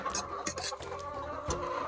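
Chickens cluck close by in short, busy bursts, several birds overlapping against a steady background hum.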